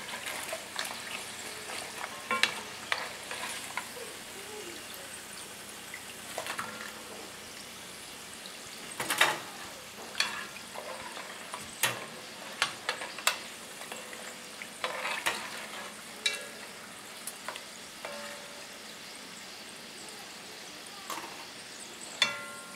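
Fry bread cooks in hot oil with a continuous soft sizzle, marked by scattered sharp pops and crackles and occasional clatters as the dough is handled, with no voices.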